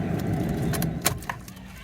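Car keys jangle in short metallic bursts as they go into the ignition of a Fiat Punto or Panda that has an intermittent immobiliser starting fault, with a few separate clinks over low background rumble.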